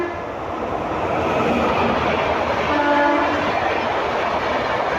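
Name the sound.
Bhagat Ki Kothi Superfast Express 20484 passing Navsari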